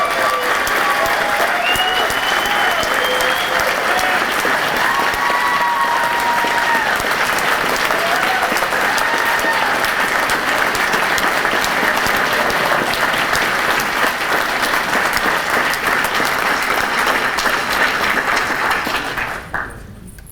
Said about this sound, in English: I just want to give a big round of applause from everyone for Leon Shaw